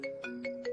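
A short electronic phone ringtone plays a quick repeating four-note melody, clear but fairly quiet, with nothing else around it.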